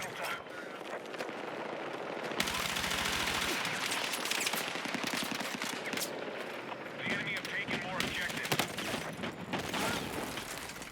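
Heavy gunfire and explosive cannon blasts from tanks rage in the Battlefield 6 open beta, loud and dense with sustained bursts and booms throughout, while a player speaks over the combat.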